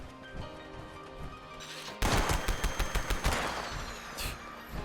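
A Pepper Shaker gun in Fallout 76, unmodified apart from sight and ammo type, fires a rapid burst of loud, punchy shots, each crack tightly spaced, after a quieter lead-in of game ambience.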